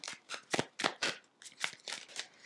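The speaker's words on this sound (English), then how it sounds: "I'm going to shuffle your tarot cards out first." Tarot cards shuffled by hand for a reading, a series of crisp riffling bursts close to the mic, about nine quick swishes in an irregular rhythm with no talking.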